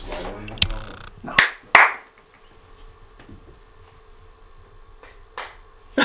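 Inside the reportedly haunted Conjuring house, a few sharp, clap-like smacks ring out close together near the start, then the room falls nearly quiet with faint background stirrings and one more soft knock later.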